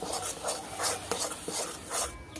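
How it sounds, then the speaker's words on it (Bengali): Semolina with ghee being stirred constantly in a pan as its moisture dries off, a rhythmic gritty scraping that rises and falls in repeated strokes close up. "সুজিটা কিন্তু অনবরত নাড়তে থাকতে হবে, অতিরিক্ত যে জলটা আছে শুকিয়ে নিতে হবে।"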